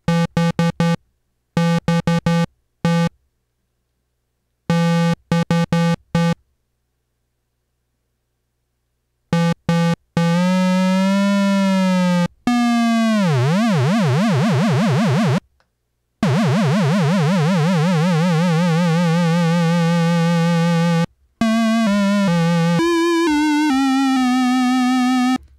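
A synthesizer tone dialed up with vibrato, sounding as short separate notes at first, then sustained pitched tones that waver and sweep in pitch, loud and alone with no talking.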